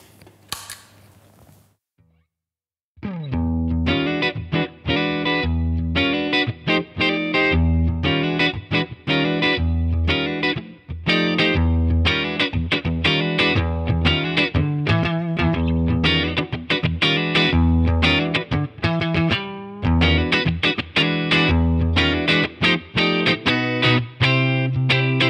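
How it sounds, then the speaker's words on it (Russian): An electric guitar plays through a Keeley D&M Drive orange overdrive pedal set to boost mode with low gain, raised level and mid tone, giving lightly driven chords and riffs, loud and continuous after a brief quiet start. "Теперь я хочу использовать эту педаль в режиме Boost."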